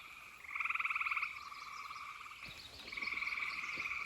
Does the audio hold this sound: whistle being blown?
no